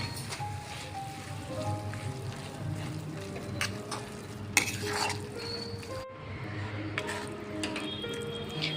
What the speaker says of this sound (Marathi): आता आपण त्यात मलई टाकणार आहोत जवळपास मलई दोन टेबलस्पून आहे टाकून घ्यायची आहे आणि छान परतून घ्यायचं आहे